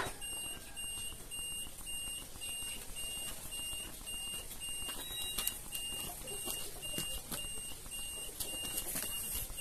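A cheap aftermarket car reversing siren costing six thousand rupiah, giving a thin, repeating high-pitched electronic beep pattern, fairly quiet and close over a faint background hiss, with no voices.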